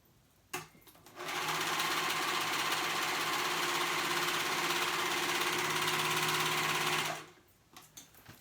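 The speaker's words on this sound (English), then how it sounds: "I am going to sew those together to make one continuous band, one long waistband." A sewing machine stitches together the two short edges of a waistband for active shorts, joining them into one continuous band; the motor runs steadily and close for about six seconds after a brief start, with no talking.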